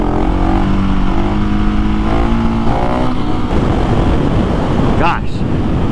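A KTM 701 motorcycle accelerates on a road, its engine note rising and climbing in pitch amid heavy wind buffeting, with a voice talking over it near the start.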